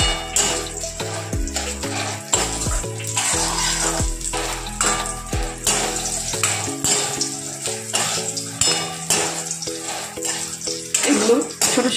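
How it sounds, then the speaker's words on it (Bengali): Small urad dal bori dumplings fry in white oil in a kadai, a steady crackling sizzle running beneath loud background music. "এই বড়িগুলো আমি এখন ভেজে নেব।"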